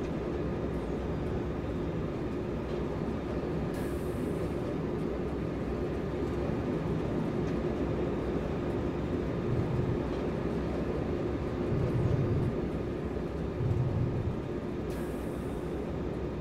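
A Railjet passenger train in Train Simulator 2022, heading toward Munich main station, runs steadily with a continuous rumbling drone of wheels and traction, brief airy hisses now and then, no voices.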